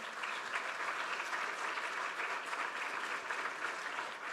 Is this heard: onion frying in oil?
no